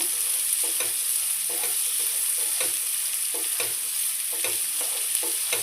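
Sliced onions sizzle steadily in a hot pan for a potato curry, with a continuous frying hiss under repeated rhythmic scraping strokes of a spoon stirring them.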